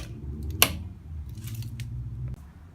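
A torque wrench clicking at 80 foot-pounds, one sharp close click over low mechanical rumble, followed by faint scraping.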